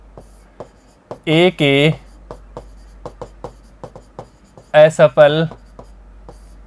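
Chalk or marker writing on a board during a Class 12 math lesson makes short, regular scratchy taps close by, with someone speaking briefly in between.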